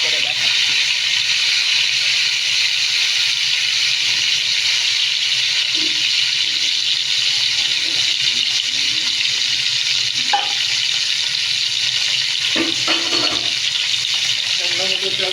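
Lightly fried, soaked mung dal is rinsed under running tap water, a steady close gushing and splashing with a few brief clatters, and a voice speaks faintly now and then.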